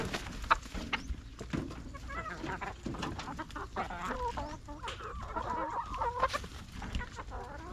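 Backyard chickens in a Thai garden cluck busily while pecking at a small bowl of sticky rice, a steady close chatter of soft clucks and occasional sharper calls with no talking.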